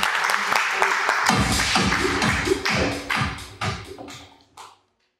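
Audience at a professional MC training class in a youth cultural centre breaks into applause, a burst of many hands that thins into a few scattered claps and thuds before stopping into silence.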